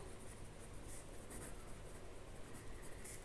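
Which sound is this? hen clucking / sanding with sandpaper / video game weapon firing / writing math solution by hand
writing math solution by hand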